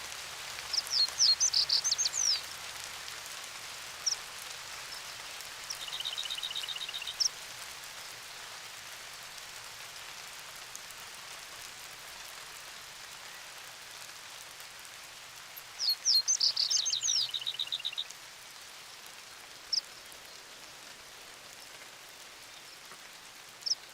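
Rain patters steadily over an English hay meadow, a soft continuous hiss, while birds sing in two short bursts of chirping song partway through.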